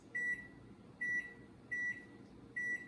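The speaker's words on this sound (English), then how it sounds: "We're gonna set our timer for approximately, we'll set it for 10 minutes." Four short, evenly spaced electronic beeps from a kitchen oven timer being set while baking chocolate chip cookies, clear and fairly quiet against a faint room hum.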